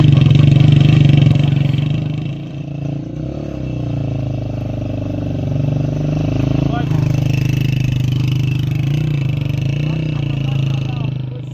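Motorcycle ridden up a steep mountain road toward a high peak, its engine droning steadily and loudly throughout with wind rumble, while a rider talks over the noise.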